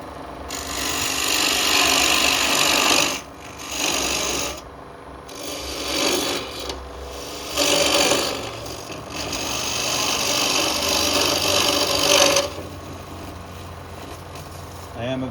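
A scraper cuts into a spinning natural-edge wooden cup on a lathe, giving loud raspy scraping in several bursts separated by brief quieter pauses; someone talks intermittently between cuts.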